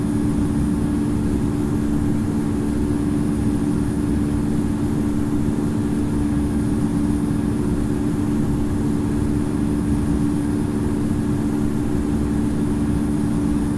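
Simulated Airbus A220 engines at climb thrust after takeoff in the Infinite Flight game, on a Breeze Airways flight from Orlando to Key West: a loud, steady, unbroken engine drone with a deep rumble throughout.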